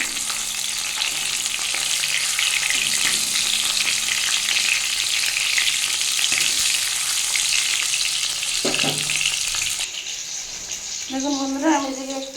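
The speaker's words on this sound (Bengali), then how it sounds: "টমেটো মেরে ভালো করে একটু ভেজে নেব" Tomatoes frying in a pan for a fish and potato-pointed gourd curry, a loud continuous sizzle with occasional scraping of a spoon, ending in a clattering tap of utensil against the pan.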